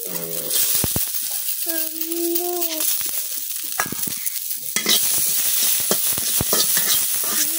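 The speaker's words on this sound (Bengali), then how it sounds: "এখন বাজে নিয়ে রসুন।" Garlic frying in a pan during a village-style Bengali bharta cooking session, a steady sizzle with stirring scrapes and clatters throughout, punctuated by a brief tonal whine and sharp knocks of the utensil.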